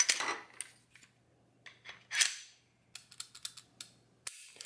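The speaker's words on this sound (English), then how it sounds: "go ahead and release the slide and feel free to dry fire it" Sharp metallic clicks and clacks of a Beretta APX pistol's slide being released and snapping forward, followed by a crisp dry-fire trigger click, several distinct close handling noises separated by quiet gaps.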